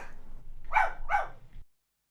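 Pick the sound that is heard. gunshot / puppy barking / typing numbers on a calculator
puppy barking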